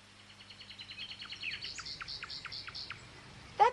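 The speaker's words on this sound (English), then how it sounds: "That bird's been singing all afternoon." A nightingale sings outdoors in the afternoon, a faint, fairly distant series of repeated chirping notes building into quick trills, ending in a brighter sharp call, with a low hum beneath.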